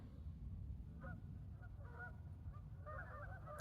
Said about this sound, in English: the chorus of geese